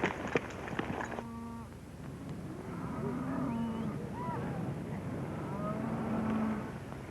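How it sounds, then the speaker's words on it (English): A herd of cattle moos repeatedly on open range, several drawn-out calls from different animals overlapping at a middle distance with no talk. "Nice-looking bunch of cattle."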